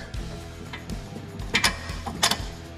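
Metal ratcheting and clicking of a wrench turning a bolt while working on a Fox Mustang, with several sharp bursts over a low mechanical rumble, fairly close.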